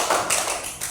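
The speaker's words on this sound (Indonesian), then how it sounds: "Iya, tepuk tangan untuk kelompok." Classroom applause for a student group: a short burst of dense, steady clapping from many hands, filling the room evenly with no voices.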